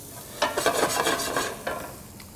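Garlic and onions sauté in a pan with cumin, giving a soft, steady sizzle broken by a few brisk stirring scrapes that come and go over a couple of seconds.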